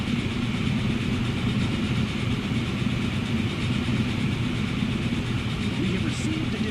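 A train engine in Transport Fever rumbles steadily with a low idling drone and a faint rhythmic rail clatter, continuous and moderately loud throughout.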